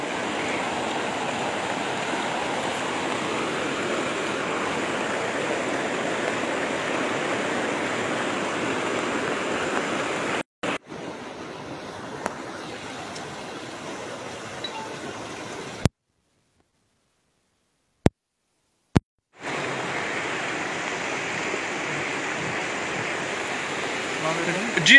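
A river rising near a bridge in Lalpora, Kunzer rushes with a broad, constant roar of flowing water for most of the stretch, briefly dropping out to near silence with a couple of clicks before resuming.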